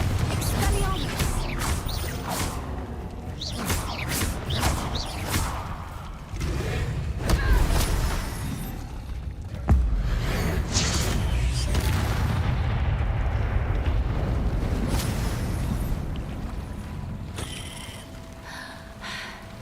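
Spell explosions from Bombarda and Confringo in the Hogwarts Legacy video game on PS4, a dense run of booms and bursts with rumbling impacts, overlapping with a voice talking.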